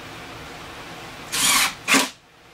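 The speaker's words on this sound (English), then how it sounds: "I'm just going to shoot a screw in" A power drill drives a screw into a filing cabinet drawer in two short, close bursts, the first about a quarter second long and the second briefer, over quiet room background.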